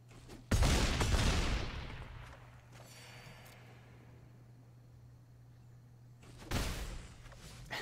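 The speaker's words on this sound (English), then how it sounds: "Those two like really hard hits, boom boom cannon shots" Two heavy, booming cannon-shot impacts in the MTG Arena card game, one at the start and another near the end, each a loud thud with a decaying rumble and quiet between.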